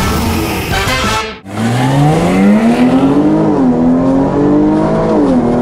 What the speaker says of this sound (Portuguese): Jaguar XE Sport. Anda, hein?